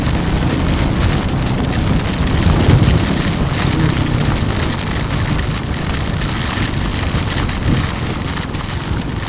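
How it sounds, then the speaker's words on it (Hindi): Heavy monsoon rain in Mumbai pours down steadily, a dense, loud hiss of drops drumming on surfaces with no break for the whole stretch. "देखो कितना जोर का बारिश आ रहा है"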